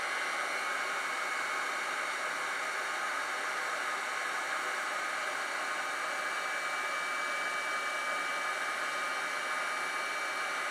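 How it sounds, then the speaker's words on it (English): Heat tool blowing steadily to melt embossing powder on a Christmas card, a continuous close hiss of rushing air with no breaks or voices. "you're going to heat up using your heat tool, and literally just heat that up"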